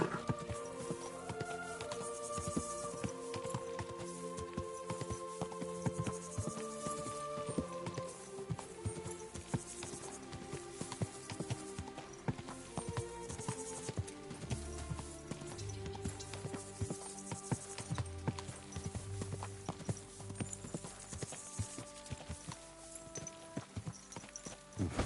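Horse hooves clop steadily at a walking pace in the video game Kingdom Come: Deliverance 2 around Kuttenberg, over continuous background music, with no voices.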